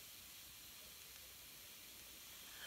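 Steady, quiet sizzling hiss of sausage frying in a pan, continuous and unbroken, with no voices.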